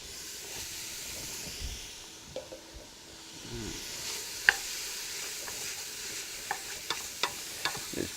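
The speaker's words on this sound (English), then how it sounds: "to saute off some garlic and some onions in here" Garlic and onions sauté in a pot for spinach and sweet potato soup, giving a steady close sizzle and hiss with scattered soft stirring clicks and scrapes, no talk.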